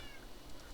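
A Siamese cat meows in a survival video game, a short, fairly steady call set against constant game background sound.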